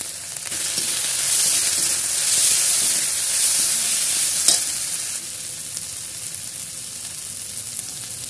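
Ginger paste, turmeric and chili powder sizzle in hot oil for a Bengali-style singara filling. A steady, close frying hiss runs throughout with soft stirring and one brief clink midway.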